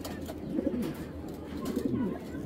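Pet pigeons coo in a cage kept by a Bangladeshi pigeon fancier, their soft, low, repeated coos rising over a steady hiss of background noise.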